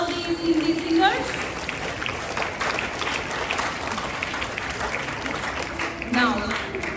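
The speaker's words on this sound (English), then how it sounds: "A big hand clap for all these Hindi singers." An audience at a school Independence Day celebration applauds upper primary 5th and 6th class Hindi singers, a steady, dense round of clapping lasting several seconds, with some voices and tonal sounds briefly audible over it at the start and end.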